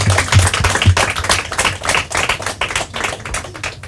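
An audience at a Portuguese-language team quiz round applauds a team, a dense wash of close clapping that swells and fades in irregular waves without talk.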